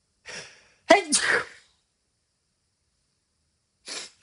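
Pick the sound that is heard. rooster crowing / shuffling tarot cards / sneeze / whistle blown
sneeze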